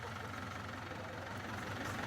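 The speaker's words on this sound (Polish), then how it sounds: "Traktorem z taką przyczepą." A tractor pulling a trailer on the island of Sark idles with a steady low rumble, continuous and moderately quiet with no speech.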